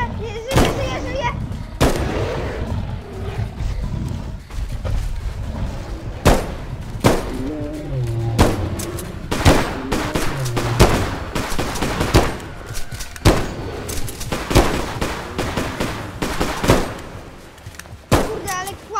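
Gunfire in a Bigfoot-hunting video game, with repeated loud, close shots and booming blasts in irregular bursts across the stretch, mixed with excited voices talking.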